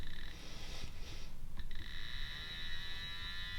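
Morph PENS device locating a nerve point, emitting steady electronic tones that stop and restart, over a constant buzzing hum, with no voices.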